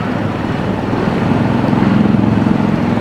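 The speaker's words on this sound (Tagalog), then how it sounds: "Ingay pa naman ng motor ko." A motorcycle engine drones steadily, picked up by a helmet-mounted SJ6 Legend action camera while riding, a loud continuous low rumble that holds for the whole stretch with no talking over it.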